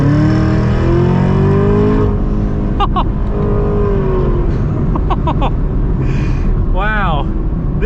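A 2023 Chevy Camaro ZL1 engine with a Corsa aftermarket exhaust revs loudly and close, roaring up and dropping back, with quick throttle blips and a rising, falling whine near the end, plus some wind noise.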